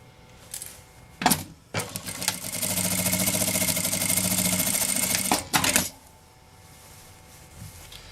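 A sewing machine backstitches across bias binding on a travel toiletry bag, with a few short clunks and stitch bursts followed by about four seconds of steady, close mechanical whirring, then more brief clunks before quiet returns.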